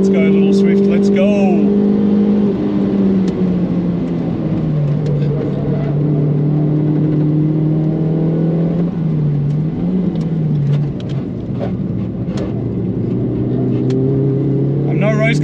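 A Suzuki Swift accelerating hard around a race track lap, its engine note rising and shifting steadily and loudly close to the microphone, with a driver talking over it throughout.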